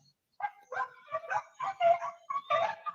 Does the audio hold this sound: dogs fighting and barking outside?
yes